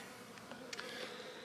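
Honeybees buzzing around an open hive with burr comb built on the inner cover, a faint, steady hum with a few brief closer buzzes passing by.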